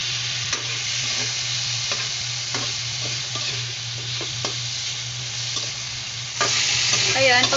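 Pork spareribs fry in a pan with a constant close hiss of sizzling oil, broken by occasional soft scrapes of stirring, the frying growing louder and more crackly near the end; no voices.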